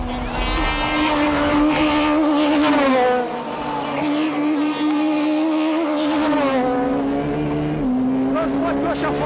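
Peugeot 306 Maxi rally cars race in 1997, their engines roaring loudly and continuously with rising and falling pitch as they rev through gears, close and sustained across the whole stretch.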